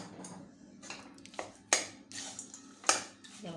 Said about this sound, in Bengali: এবার আমি কচুর ডাঁটাটা দিয়ে দেব